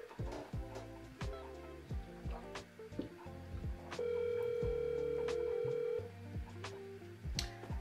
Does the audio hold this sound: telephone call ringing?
yes